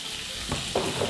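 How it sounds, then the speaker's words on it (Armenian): Sweet red pepper fries in a pan, a short burst of close sizzling with a couple of light stirring scrapes. "տապակել կարմիր քաղցր պղպեղ"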